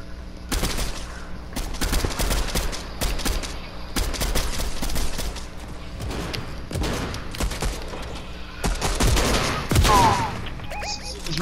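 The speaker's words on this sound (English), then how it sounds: "You're being shot at?" Gunfire from a first-person shooter game, dense rapid bursts and volleys of shots rattling almost nonstop, close and loud, with players talking over the shooting.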